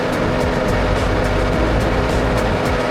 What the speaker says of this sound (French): Ce vibreur automoteur, Tenias, relève le défi avec son moteur puissant.